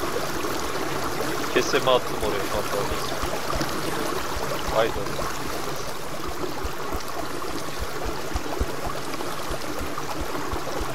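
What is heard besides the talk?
waterfall in a video game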